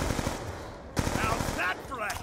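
Rapid video game gunfire from Call of Duty Zombies (Black Ops 2, Buried map), several quick bursts of shots with short pauses, moderately loud and steady.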